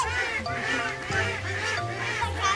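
Geese honk repeatedly and fairly loudly, a flock calling over and across one another in steady overlapping bursts outdoors, with no talk.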